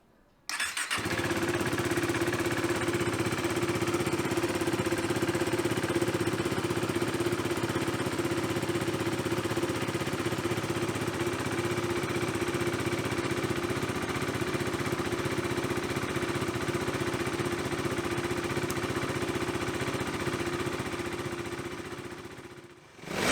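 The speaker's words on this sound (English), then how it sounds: "He's going to crank up the motorcycle now." A KTM RC 390 motorcycle engine, fitted with a PowerTRONIC ECU, starts up and settles into a steady, rumbling idle close by, running continuously with no voices.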